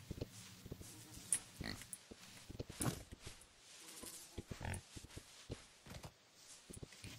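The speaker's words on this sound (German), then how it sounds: "So, hier sind auch Schweinchen." Pigs in the Horse Tales: Emerald Valley video game grunt and oink in short, irregular bursts, fairly quiet and close, with occasional soft footsteps between them.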